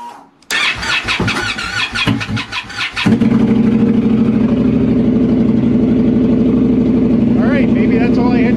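An Indian Scout motorcycle with a lithium battery cranks over under a spoken voice, then catches and settles into a loud, steady running idle that continues to the end.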